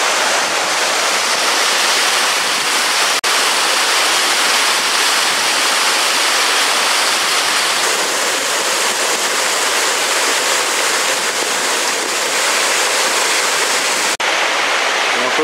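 A steady, loud rush of flowing water, broad and continuous like a mountain stream, with no voices over it.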